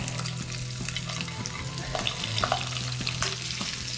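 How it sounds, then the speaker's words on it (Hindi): Sliced carrots and onions hiss and crackle as they stir-fry in a hot pan with beef chilli ingredients nearby, a steady close sizzle broken by occasional scrapes and clinks of a spatula. "झटपट से मैं गाजर को डाल रही हूँ और प्याज को डाल रही हूँ ताकि ये थोड़ा सा हम इसे 1 आध मिनट फ्राई कर दें"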